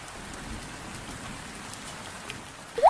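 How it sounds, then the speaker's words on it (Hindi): Steady rain patters on a surface in an even, soft hiss, with a sharper drip or splash right at the end. "तभी तेज बारिश शुरू हो जाती है, जैसे आसमान फट पड़ा हो।"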